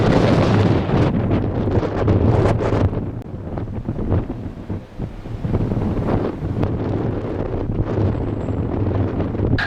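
Strong gusty wind buffets the microphone at an airport runway, a continuous loud roar that swells and dips without letup.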